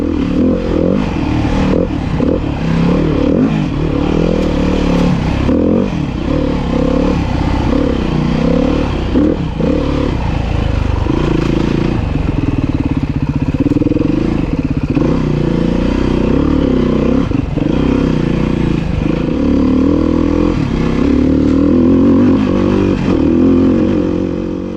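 Beta 390 enduro motorcycle accelerating through mud at the Alligator Enduro, a loud, close engine roar that rises and falls with the throttle over clattering and scraping from the bike and trail.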